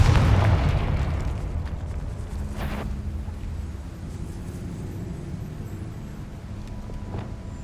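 A Confringo blasting spell explodes in Hogwarts Legacy with a heavy, booming burst at the start that fades into a long, low, windy rumble.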